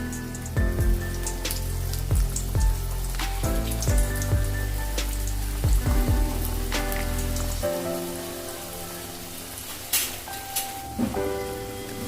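Egg samosas deep-frying in oil on a low flame, a steady fine crackle and sizzle with occasional louder pops and clinks, no one talking.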